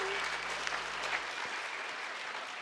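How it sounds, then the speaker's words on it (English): Audience applause inside a church at a family and friends Christmas concert, a steady even spread of clapping, moderately faint, with no voices over it. "give her a nice applause"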